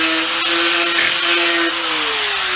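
Power sanding disc grinding against a custom kick panel for a 1970–72 Chevelle, a steady loud whine with a sustained tone that drops slightly in pitch near the end, close and continuous without talk.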